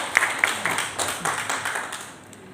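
A school audience breaks into brief applause, a few distinct claps rising into a short burst of scattered clapping with some voices mixed in, fading toward the end.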